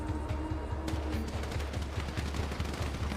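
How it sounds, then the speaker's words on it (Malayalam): Rapid bursts of automatic gunfire in a battle royale video game crackle in quick repeated volleys over a steady background rumble, sounding moderately loud and sustained. "ഇവിടുന്ന് വെടിവെക്കുന്നു"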